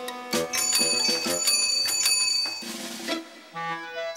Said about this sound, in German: Eine Fahrradklingel?